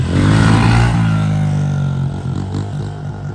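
A pit bike engine revs hard and loud up close, a throaty buzzing roar that holds high then eases slightly and wavers, with clattery mechanical texture underneath.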